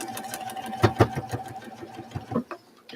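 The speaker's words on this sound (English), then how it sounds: "I'm just sewing these stripes to meet up" A sewing machine stitching quilt stripes together chatters in a quick, close, rattling run of needle strokes with a few louder knocks, heard alone without talk.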